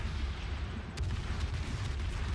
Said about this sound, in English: this rate of fire is so ridiculous